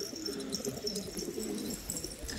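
Pigeons, including red-tailed champion birds, coo softly in an aviary loft in a hidden valley in Hatay, with low repeated cooing over a faint, steady outdoor background and no talking.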